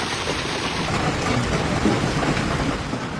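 Heavy rain pours in a dense, loud wash during a severe thunderstorm in Alberta, with low rolling thunder rumbling underneath and no voices.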